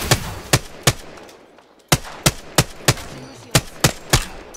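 Video game gunfire rings out as sharp, loud single shots at an irregular pace, about a dozen cracks with brief gaps and one short pause, and no talk over them.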